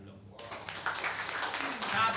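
Audience applause at an elderly prayer fellowship gathering in a church: a faint burst of scattered clapping begins after a short pause and continues as a soft, rustling patter to the end.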